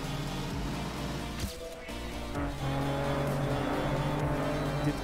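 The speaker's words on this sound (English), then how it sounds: "the rally car is so much louder than the snow car" A loud rally car engine in TrackMania roars steadily and revs, with brief tire squeals over a constant droning motor.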